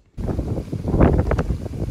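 Strong wind blows outdoors as a steady, loud rushing gust buffeting the microphone, with no voices.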